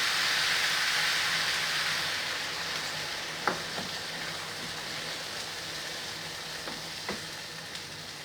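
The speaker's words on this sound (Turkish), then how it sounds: "Baharatlarını ekledikten sonra ılık suyumu ekliyoruz." Warm water poured into a pan of chicken, carrots, potatoes and peas, giving a steady close sizzling wash with a few faint clinks, no voices.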